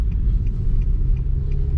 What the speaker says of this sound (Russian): 5-й Филдер поехал.